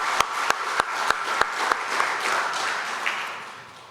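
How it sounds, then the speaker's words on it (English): Applause from an audience gathered at a foundation event, a dense wash of clapping with a few sharp individual claps standing out near the start, steady for a few seconds and then thinning and fading out. "So let's give those two gents a round of applause"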